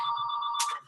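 A mobile phone rings with a steady electronic tone that cuts off abruptly, heard close and fairly loud in a quiet indoor room.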